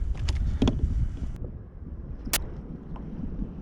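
Wind buffets a fishing kayak drifting off Auckland's North Shore, producing a low, steady rumble of microphone wind noise with a few sharp knocks and one bright clack against the hull.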